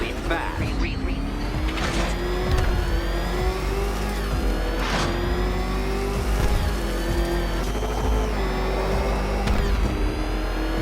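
The Batmobile's engine in the video game Batman: Arkham Knight drones and revs with a rising, whining pitch, steady and loud, broken by sharp mechanical bursts, with game voices heard over it at times.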